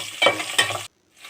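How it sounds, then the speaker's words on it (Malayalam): Chopped green chillies are sautéed in a pan for a Kerala-style chicken dish, a close scraping stir and sizzle in two short strokes, a brief silence, then the sizzle returns softly. "ആ ഒരു സമയത്ത് നമ്മൾ അരിഞ്ഞ് വെച്ചിരിക്കുന്ന പച്ചമുളകും കൂടി ഞാൻ ചേർത്ത് കൊടുത്ത് നമ്മളൊന്ന് വഴറ്റിയെടുക്കുന്നുണ്ട്"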